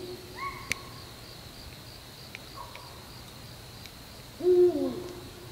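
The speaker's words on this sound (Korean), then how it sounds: "오늘은 부엉이랑 함께하는 밤이 될 것 같아요." A few soft owl hoots ring out in a quiet night at a wild campsite after rain, the clearest pair arriving near the end, with faint insects and a couple of distant clicks around them.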